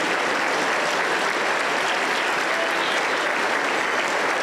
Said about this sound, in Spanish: Fuerte aplauso para el Señor Jesús.